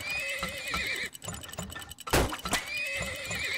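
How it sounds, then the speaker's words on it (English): Horse neighing from the video game Turmoil: a loud whinny rising and falling alone, with clip-clop hoofbeats and faint ticking, then a sharp burst and a second whinny. "it's doing the sound of the freaking horses"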